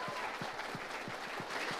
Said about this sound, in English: Give Alex another massive round of applause.